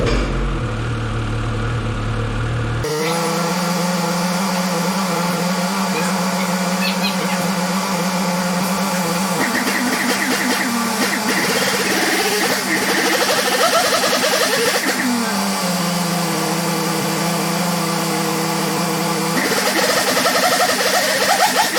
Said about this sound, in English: So now we're just gonna warm up the sled.